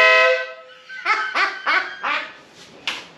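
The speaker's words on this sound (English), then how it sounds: "that's the new Pro Beast horn" A motorcycle air horn gives a long blaring blast, then a rapid series of short honks in a quick rhythm, loud and close.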